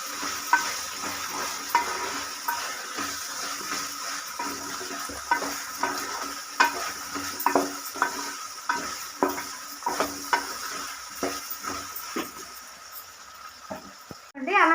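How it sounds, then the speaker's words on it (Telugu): Ginger paste fries in a pan for veg pulao while a spoon stirs it. A steady sizzle runs under repeated sharp scrapes and clicks of the spoon against the pan, close and continuous. "అల్లం పేస్ట్ వేసి కలిపేసుకున్నాం."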